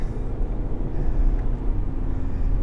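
An Audi A5 diesel engine rumbles steadily at idle or low speed, a deep continuous drone heard from close by, with no talking.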